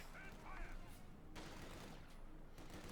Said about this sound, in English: Bazooka shots there flying at the Panzer IV and failing to penetrate.